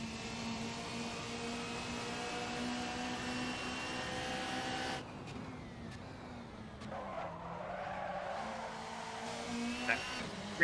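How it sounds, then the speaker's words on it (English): In Assetto Corsa, a race car's engine drones steadily, then the rear brakes lock and the tires skid and squeal, a rough scrubbing sound that rises toward the end, with faint talk underneath. "Rear brake locking though."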